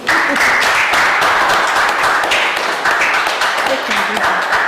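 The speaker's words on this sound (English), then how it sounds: "Give yourselves a round of applause." Student athletes and guests at a school sports association season launch applaud in a loud, packed burst of clapping that stays dense and continuous throughout, with a few voices mixed in.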